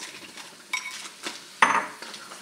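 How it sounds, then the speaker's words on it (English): Crab legs and whole crabs go into a pot of spinach stew, producing a few close clinks and knocks against the pot and a sharper clattering splash near the end. "Okay, so I'm going to add my crab legs and then my crabs."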